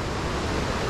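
Bhatte Khola mountain river at about 1960 m on the Gosaikunda trail, a constant loud broadband rush of flowing water heard up close, with no voices.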